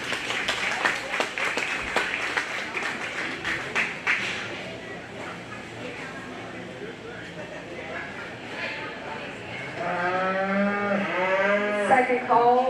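Breeding heifers at a county fair show: a cow lets out a long, loud, wavering moo near the end, following a stretch of crowd applause and clapping with background chatter.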